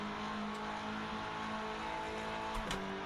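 GT3 race car engine droning steadily around Spa in the racing game Rennsport, a continuous layered engine tone with a brief rise and shift near the end, no voices.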